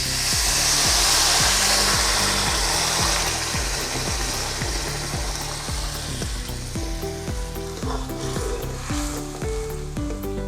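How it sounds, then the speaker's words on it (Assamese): Hot water goes into magur fish curry with bhedailota frying in a pan, raising a loud, steady sizzle with a bright hiss at first that settles into bubbling crackle and faint stirring clatter. "এতিয়া মই ইয়াত গৰম পানী দিম।"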